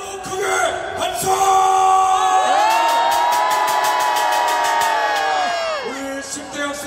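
A large political rally crowd on Yeouido, Seoul, roars and cheers loudly together, the shouting swelling into one sustained cry and then easing off as applause and voices scatter.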